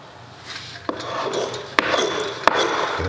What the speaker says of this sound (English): And then we just scrape it right off.